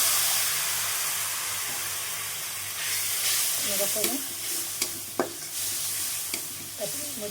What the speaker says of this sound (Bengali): তো এখানে আমি সব মশলাগুলো কষাই নিচ্ছি